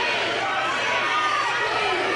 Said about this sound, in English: Yeah, crowd is angry.